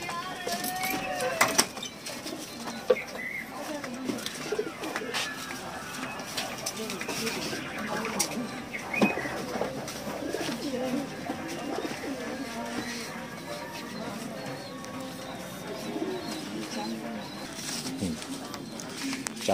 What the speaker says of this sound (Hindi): इसमें जो भी कबूतर हैं वो बड़ी ही हाई फ्लायर कबूतर हैं